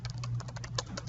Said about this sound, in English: I'm just typing what's in the book.